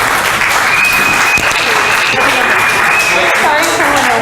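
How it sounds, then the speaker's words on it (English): Loud, steady audience applause at an afternoon outreach session, a dense wash of clapping that fills the whole stretch without a break. "just give them a round of applause"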